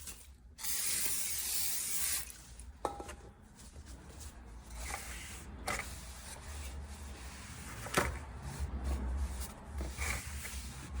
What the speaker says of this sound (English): I'm gonna hit it with some brake cleaner and then clean it with a cloth